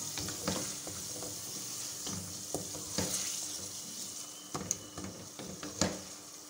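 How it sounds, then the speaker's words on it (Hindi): Yogurt sizzling and being roasted in a pan with spices for aloo qeema, a steady close frying hiss broken by repeated spatula scrapes and stirring knocks, with no talk. "दही को भी अच्छी तरह से भून लूंगी।"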